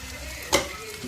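Tomato curry seasoned with chili powder and salt, stirred in a frying pan, giving a steady soft sizzle with one sharp scrape of the spoon midway, close and without talk.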